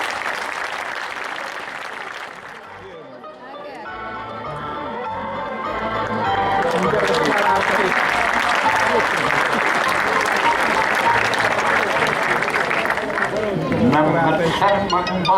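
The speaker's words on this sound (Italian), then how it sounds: "li accogliamo con un grosso applauso" Audience in a theatre in Mussomeli welcomes the Luigi Capuana theatre company from Campofranco with applause, starting faint and swelling into loud sustained clapping. Speech runs over it.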